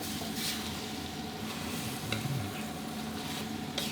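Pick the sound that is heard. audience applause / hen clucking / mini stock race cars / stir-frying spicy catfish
stir-frying spicy catfish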